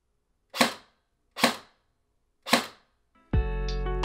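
Three sharp, distinct shots from a Crytek CRB airsoft AEG rifle fitted with a foam-filled suppressor, spaced roughly a second apart, followed by a sudden sustained tonal sound.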